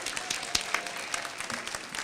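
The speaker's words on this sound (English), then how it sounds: "So, give a big round of applause for our mayor." A town hall audience applauds the mayor with a dense, steady wash of many hands clapping, moderately loud and somewhat distant, with no speech over it.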